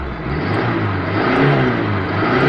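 A car engine that had flooded is revved steadily just after starting, a loud, close, continuous low roar that swells slightly midway.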